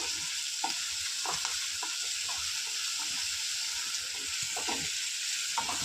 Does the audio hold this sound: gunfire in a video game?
no